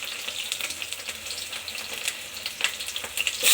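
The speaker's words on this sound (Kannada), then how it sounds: "ಇವಾಗ ಒಗ್ಗರಣೆ ಮಾಡ್ತಾಯಿದ್ದೀನಿ" Spices tempering in hot oil for mutton keema give off a steady, crackling sizzle with brief sharper pops, close up and fairly loud, heard alone with no talk.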